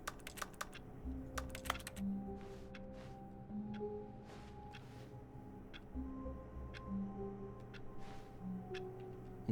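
Irregular clicking of computer keys in the video game The Stanley Parable, quiet and steady over a faint office-like hum, with short pauses between bursts of keystrokes.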